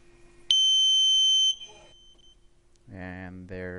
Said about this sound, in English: And there's our first beep.